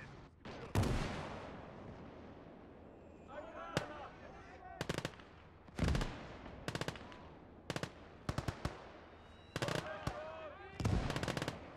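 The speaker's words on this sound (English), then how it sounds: "And here come the mortars." Mortar and gun fire in Valour Workshop, a North Africa battle game: a string of sharp, loud blasts arriving in irregular bursts, some doubled or clustered, with faint rumbling and battlefield noise between them and brief talk.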